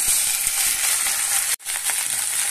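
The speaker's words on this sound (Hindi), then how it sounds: "कढ़ाई हमारा गर्म हो चुका है, मैं कढ़ाई को रख दी थी, इसमें तेल डाल दी हूँ। अब मैं भिंडी को फ्राई करूंगी।" Okra (bhindi) fries in hot oil in a kadai with a steady, bright sizzle and occasional light clicks, broken by a brief dropout midway.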